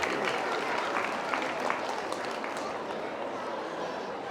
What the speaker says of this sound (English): Big round of applause for the Burmilla.